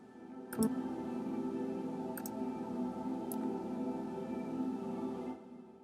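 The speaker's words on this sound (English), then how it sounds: "it's called vocal cluster, and it basically just sounds like this" A sustained synthesized vocal-cluster choir-like pad in Logic Pro X holds a steady, slightly dissonant chord, humming evenly for several seconds, with a few faint clicks near the start.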